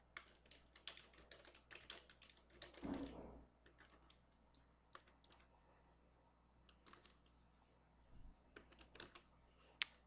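Someone types on a computer keyboard while working through a Mixbook tutorial, producing quiet, irregular clusters of close key clicks with short pauses, one soft thud partway through, and no talk.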